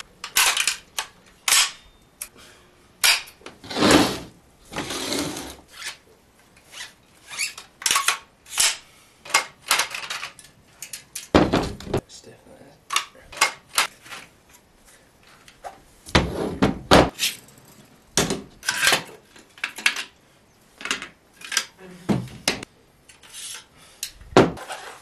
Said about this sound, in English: I'll clean my rifle.